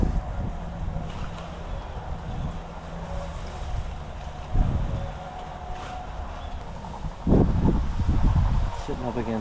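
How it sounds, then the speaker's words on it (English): Wind blows across an open field near a pivot irrigator in North Dakota, giving steady rushing, buffeting noise and microphone gusts close to the recorder, with a few heavier thumps mixed in. "Check your bush to make sure that it's all still intact with the wind that is coming in right now."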